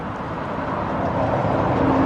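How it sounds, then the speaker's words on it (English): Traffic passing along a main road beside an abandoned Buckinghamshire motel and bar: a steady, broad rumble of vehicles that slowly swells in loudness, with no talking. "you can see by the vehicles going past"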